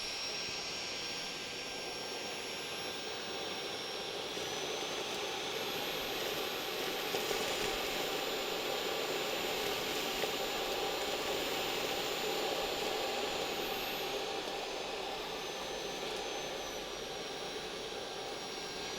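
A Conga RockStar 2500 cordless stick vacuum cleaner runs in auto mode as one continuous, close, high-pitched whine, its pitch shifting slightly as the suction power adjusts itself.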